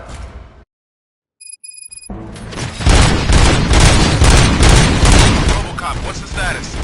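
Gunfire in the Robocop Rogue City game: after a brief silence and a few electronic beeps, a loud sustained barrage of shots and blasts erupts and continues densely to the end.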